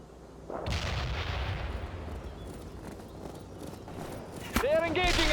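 Artillery and gunfire erupt in the 2007 strategy game World in Conflict: a sudden heavy blast rolls into a long rumbling barrage, then a second sharp crack of fire. Voices mix with the battle noise.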